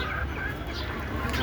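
Desi chickens cluck softly close by on a muddy farm, with short scattered calls over a constant background hum, and a faint voice speaking beneath them.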